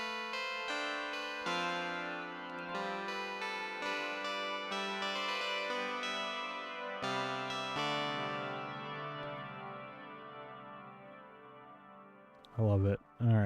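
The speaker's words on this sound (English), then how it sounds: "Changing the delay again." A guitar run through an Eventide Blackhole pedal, notes repeating and smearing into a shimmering wash that slowly fades, followed by a couple of sharp thumps at the end.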